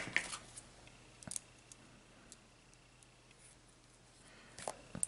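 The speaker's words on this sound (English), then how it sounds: "I'm going to bring my scissors in and cut the end off." Quiet, close scissor snips cutting off a ribbon end: a couple of sharp clicks at the start, one in the middle, and a few more near the end, over faint room hum.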